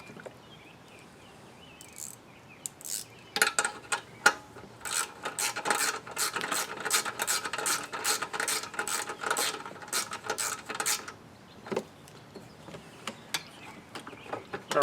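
Oil dipstick being screwed down on a Briggs & Stratton small engine: a close, rapid rhythmic ratcheting and rubbing series of clicks lasting several seconds, then a few isolated taps.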